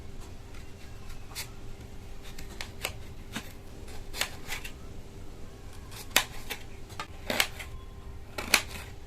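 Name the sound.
chopping onion into thick pieces with a knife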